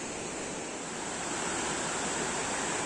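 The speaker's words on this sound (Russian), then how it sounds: "Так шумит вода." Steady rushing water in Germany, near a castle on a rocky hill, a constant broad hiss-like roar at moderate level with no other sounds or voices.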